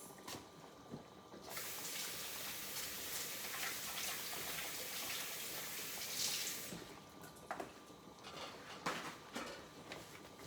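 Tap water runs steadily into a kitchen sink for hand washing during lasagna preparation, a continuous close rush lasting several seconds before easing into scattered drips and splashes.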